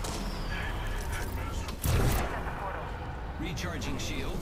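Gunfire from a squad shooting in an Apex Legends match, with a heavier blast or burst standing out near the middle over a steady dense background of battle noise.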